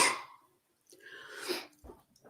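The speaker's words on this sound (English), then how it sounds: "Oh, I'm going to sneeze." A single close sneeze bursts out sharply, followed by a short pause and a softer breathy follow-through and sniff, all faint and isolated.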